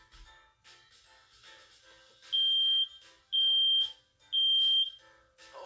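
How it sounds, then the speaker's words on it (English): Three loud, shrill smoke alarm beeps sound in a test, each about half a second long and evenly spaced, following softer chiming and tinkling sounds. "Tap on the smoke alarm so that I can test it before we go."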